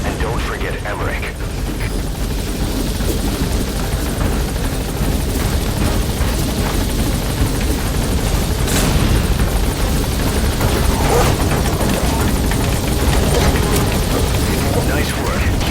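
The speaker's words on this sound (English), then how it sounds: "All right, chopper's touching down." A helicopter touches down in Metal Gear Solid 5: The Phantom Pain, its loud, steady rotor roar filling the whole stretch without letup, with game voices and effects mixed in.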